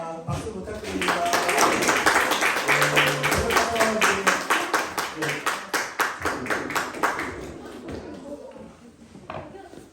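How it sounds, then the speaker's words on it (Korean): Applause from a congregation at a Christmas church service, steady dense clapping that swells early, then settles into a rhythmic beat before fading near the end, with some voices mixed in. "인사 박수 부탁드립니다"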